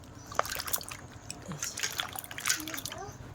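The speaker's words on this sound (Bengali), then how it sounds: "2-3 ধোয়া দিয়ে এখন আলুগুলো ধুয়ে তুলে নেব" Potatoes are washed by hand in water, with sloshing, trickling and small splashes across a few seconds of close, busy movement.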